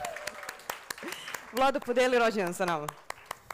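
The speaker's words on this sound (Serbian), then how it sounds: "evo jedan aplauz za Vladu i za njegov rođendan" A small audience claps at a conference talk to mark the speaker's birthday, scattered hand claps spread through the clip under a voice.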